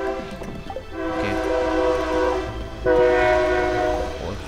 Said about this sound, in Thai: เสียงรถไฟดังไปหน่อยบ้านผมก็อยู่ใกล้รถไฟ